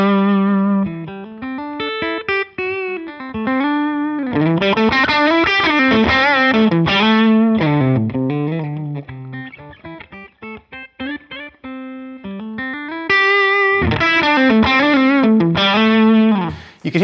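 An electric guitar plays through the Matchstick Channel 2 amp model on a Line 6 Helix, giving a driven, chorused tone. Sustained chords and single notes ring alone over about seventeen seconds, with brief gaps between phrases.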